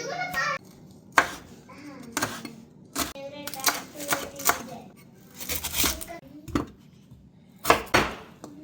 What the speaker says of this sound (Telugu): పాలకూరని అయితే మేము ఇప్పుడు తరుక్కుంటున్నాము